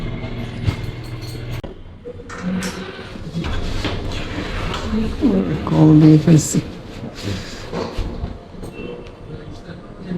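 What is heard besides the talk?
passing train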